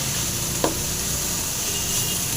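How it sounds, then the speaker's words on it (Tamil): Three kinds of spinach greens sizzle steadily as they fry in a pan, a continuous hiss with one brief stir sound near the start, and no talking. "இப்போ நல்லா வந்து ஃப்ரை பண்ணிக்கலாம். நல்லா வதக்கலாம்."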